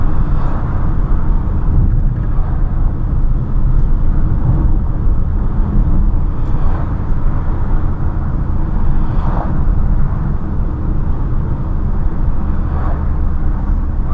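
Steady engine drone and road rumble from a Mercedes-Benz GLB 161 hp petrol hybrid while driving, with a faint electric whine layered over it, continuous and close from inside the cabin.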